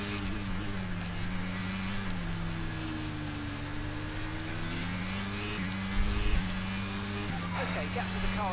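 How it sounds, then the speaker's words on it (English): A V10-engined Alfa Romeo Formula 1 car in the F1 22 racing game revs steadily with rising and falling engine pitch throughout, layered with other engine drone, while a voice talks over it. "That Alfa Romeo sounds so different than the other cars. I've got a V10 in it."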